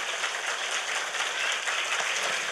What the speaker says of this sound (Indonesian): Tepuk tangan dulu dong buat panitianya.